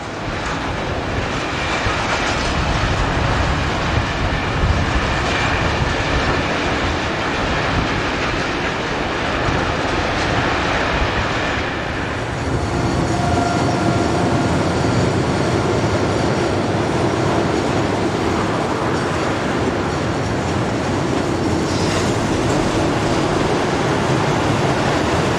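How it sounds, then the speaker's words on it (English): A Class BB 22200 electric locomotive hauls a westbound intermodal freight train past at close range, giving a loud, sustained rushing roar of wheels and wagons with rhythmic clatter, shifting in tone midway as the cars roll by. "A Class BB 22200 electric arrives with a westbound intermodal"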